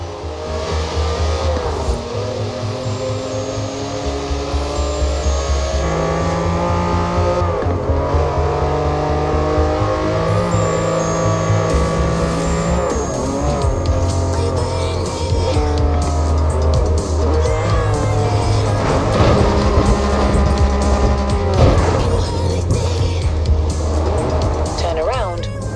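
A Lamborghini Countach races in Forza Horizon 4, its engine revving and shifting through gears in a loud, continuous roar with rising and falling pitch, while a person talks over it.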